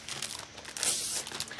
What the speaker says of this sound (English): Sorry about the crinkle.